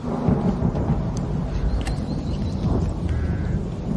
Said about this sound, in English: Looks like we got a storm coming this way